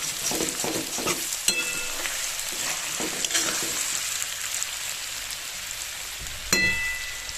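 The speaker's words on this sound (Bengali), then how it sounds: "এরপর আমি দু মিনিট নেড়ে চেড়ে আরেকটু ভালো করে ভেজে নেব" Steady sizzling of potatoes frying in a pan for Bengali jhinge aloo posto, with occasional scraping and clinks as they're stirred, no voices.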